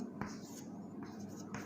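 Marker or chalk writing on a board during a chemistry lesson, a few short scratchy strokes close by over low room noise.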